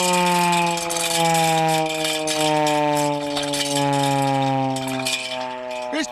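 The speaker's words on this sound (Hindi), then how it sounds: "आप देख सकते हैं ये सायरन" Civil defense war siren sounding for a mock drill, a loud sustained wailing tone holding steady with layered harmonics and a slight dip at the end, no voices.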